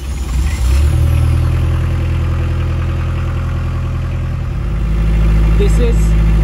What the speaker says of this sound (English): When it goes to 25, it will go into pre-start mode and start the generator.